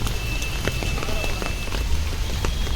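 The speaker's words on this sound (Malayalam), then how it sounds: "അയ്യോ, വീണ്ടും മഴ." Steady rain patters on surfaces in a continuous hiss, with scattered louder drops standing out and a low rumble underneath, like a wet street heard from close by.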